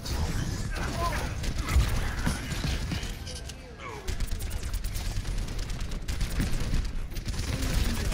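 Dense gunfire aimed at Roadhog in the video game Overwatch, a steady rattle of shots running nearly throughout with explosive bursts and effects, loud and busy, with brief game voices mixed in.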